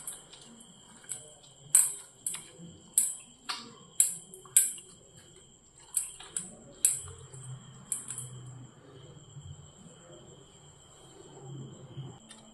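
Chilli powder being stirred into an onion chutney (ulli chammanthi) in a bowl. A quiet run of sharp spoon clicks and taps comes in an uneven rhythm, then fades into a soft, low background.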